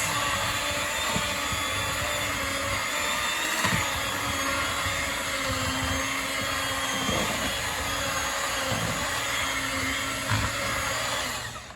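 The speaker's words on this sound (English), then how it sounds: "we're going to start blending our potatoes" An electric mixer whirs steadily while blending potatoes for shepherd's pie, a loud, continuous motor drone with occasional bumps as the beaters hit the bowl.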